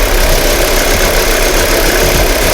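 A used car's engine idles loudly and up close on a used-car lot in Suwon, a steady rumbling drone with no break and no voices.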